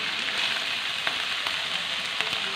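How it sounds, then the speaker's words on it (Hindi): Half a kilo of beef mince sizzles steadily with golden-brown onions in a pan, a continuous loud frying hiss with occasional small pops and stirring ticks. "हाफ़ के जी मैंने कीमा लिया है बीफ का, इसको भी फ्राई करेंगे इसके अंदर।"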